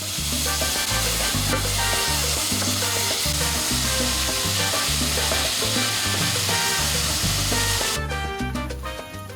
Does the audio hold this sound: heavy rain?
no